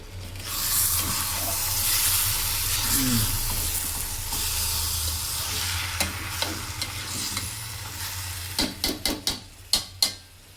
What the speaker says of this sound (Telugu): చేపలు మగ్గుతాయండి, ఒకసారి తిప్పుకుంటే